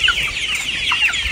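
A flock of farm chickens clucks close by, several birds making short overlapping calls in a busy, uneven chatter.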